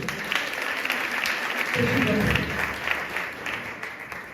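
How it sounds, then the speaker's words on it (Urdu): Church congregation clapping during a worship service, a steady wash of applause that swells midway, with a voice talking over it. "یسوع مسیح کے لیے تالیاں بجائیے۔"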